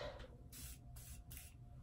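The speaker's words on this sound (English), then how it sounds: "take my Morphe spray, my favorite spray in the whole world" Three quick hissing bursts of Morphe setting spray in a row, close and fairly soft against a quiet background.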